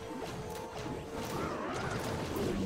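Buildings crumble in a strategy video game, heard as a continuous close crunching collapse with thuds and clattering debris that swells slightly toward the end, with no talking over it.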